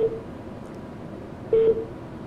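Telephone dialing tones during a live TV health broadcast as a viewer from Diyarbakır is called: two short steady tones, the second louder, over a low background hum, with no talking.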